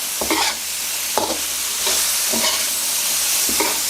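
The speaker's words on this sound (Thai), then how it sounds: "กระดูกอ่อนคั่วสมุนไพร คั่วให้เข้ากันแบบนี้เลย" Cartilage stir-fried with herbs and chillies in a pan: a steady sizzle broken by about six rhythmic scraping strokes of a spatula, close and clear.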